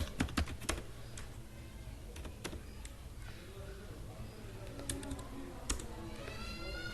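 Fingers type on a computer keyboard in irregular bursts of close, crisp key clicks with short pauses between them, and a faint voice murmurs in the background toward the end.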